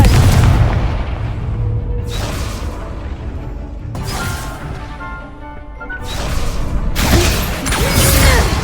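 Confringo spell explosions in a video game, a series of loud booming blasts about every two seconds, each a sharp crashing burst that rumbles and fades before the next, close and heavy.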